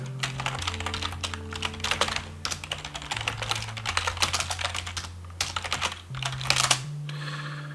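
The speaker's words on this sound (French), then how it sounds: "Je vais même écrire à Geoffrey" Rapid, uneven keystrokes on a computer keyboard as a message is typed, clicking in bursts with short pauses throughout, close and clear over a steady tonal music bed.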